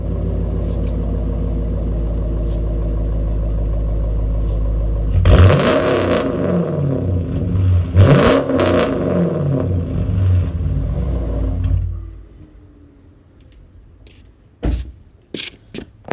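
Dodge Charger engine idling with a loud, heavy rumble, then blipped through several sharp revs before shutting down. A few clanks and knocks follow in the quiet afterward, all close and with no talking.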